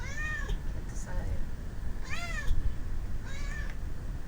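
A cat meows three or four times with rising and falling cries, close by over a steady low background rumble.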